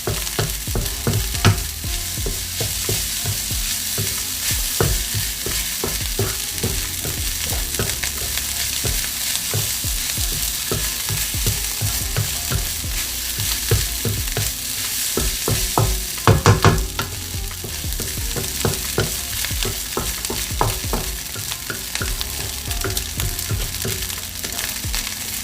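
Pork fried rice sizzles loudly in a hot pan while a utensil scrapes and stirs it in quick, repeated strokes that continue throughout.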